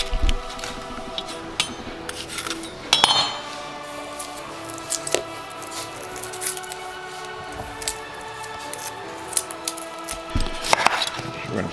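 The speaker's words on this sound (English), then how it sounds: "Chop this, we're gonna throw this then into the saute pan as well." A knife chops a sweet red onion for meatloaf, giving irregular, fairly quiet taps and crisp cuts on a board, with a few louder knocks among them.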